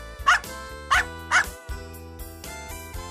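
A dog gives three quick, sharp barks in an even rhythm, close and distinct over soft background music that continues after the barking stops.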